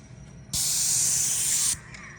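An airless paint sprayer coating a louvered bi-fold door bursts into a loud, even hiss for about a second, then stops abruptly against a quiet background.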